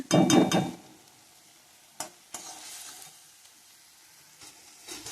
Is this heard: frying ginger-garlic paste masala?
yes